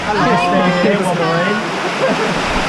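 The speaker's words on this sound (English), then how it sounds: "We're in Langkawi in the pouring rain." Heavy monsoon rain pours down in Langkawi, Malaysia, a loud, steady wash of water heard close up, with people talking over it.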